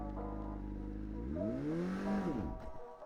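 Manual car revved hard during a first clutch-dump burnout attempt, the engine note rising and falling in a sweeping whine before bogging down and stalling near the end, close and alone without talking.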